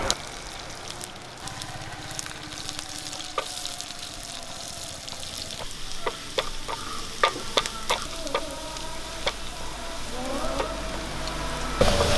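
Mustard seeds and long-sliced shallots frying in coconut oil, a steady sizzle with scattered sharp pops and crackles from the seeds growing busier over time, close and moderately loud.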